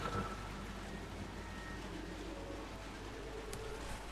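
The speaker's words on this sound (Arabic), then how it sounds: "صوت المطر عالي جدا" Heavy rain pours steadily and loudly in an outdoor setting, a dense constant wash of drops with no talk, birds cooing faintly in the background.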